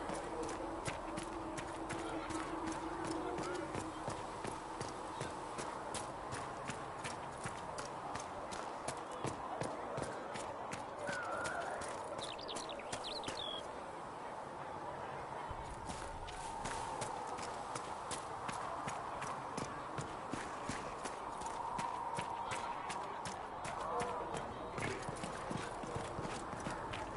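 Horse hooves pound in a fast, continuous clip-clop throughout a video game scene, fairly near and steady, with occasional neighs, faint talking and a low ambient hum underneath.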